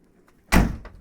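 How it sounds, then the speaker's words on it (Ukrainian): A single solid thump of a 2011 Renault Trafic van door shutting close by, dull and muffled, followed by a faint rattle as it settles. "От навіть чутно двері закрилися, глухо, ніяких лишніх звуків."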